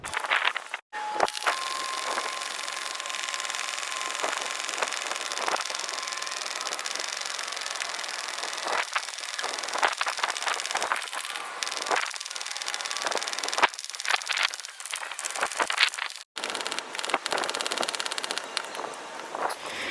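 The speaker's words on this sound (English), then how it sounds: "I'm going to be using the hand pump to pump up the biggest and first chamber." A hand pump inflates the largest chamber of an Intex Seahawk 2 inflatable boat, with close, steady strokes of rushing air repeating continuously and no one talking.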